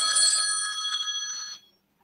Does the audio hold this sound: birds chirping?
no